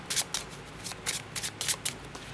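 Tarot cards are shuffled by hand in quick, crisp riffling bursts, close and fairly loud, with no talking.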